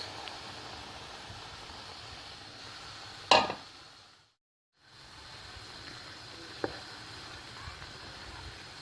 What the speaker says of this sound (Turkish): Tavaya yağ koydum. Yağımız ısındı ve unumuzu ekliyoruz.